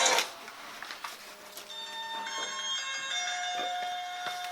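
A telephone rings in a room, a steady electronic tone pattern repeating throughout, fairly close and clear, with brief rustling at the start and faint background noise.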